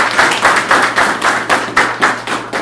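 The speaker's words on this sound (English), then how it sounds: "Derek, gotta give him a round of applause." A small group claps steadily, a quick even rhythm of hand claps up close with no talking.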